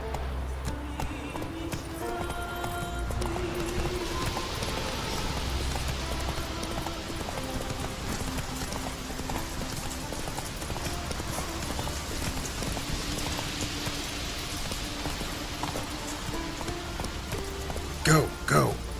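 The horse Roach from The Witcher 3 gallops with a steady, close clip-clop of hooves, running without a break under a spoken voice.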